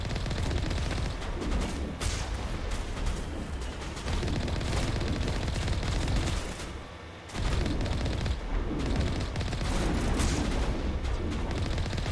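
Mass Effect Legendary Edition vehicle combat: repeated bursts of gunfire and booming impacts while driving in circles, loud and sustained over engine rumble, with brief lulls between volleys.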